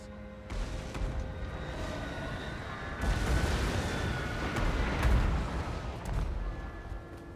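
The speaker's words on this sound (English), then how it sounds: "Cannons fire." Cannon artillery firing in Total War: Warhammer 2, deep rumbling booms and blasts layered into a dense, continuous battle din.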